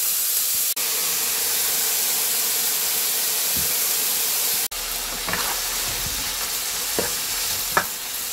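Beef in a pot sizzles and hisses steadily as sesame oil goes in for Korean miyeokguk seaweed soup, with loud frying and a few sharp spatters and stirring scrapes near the end.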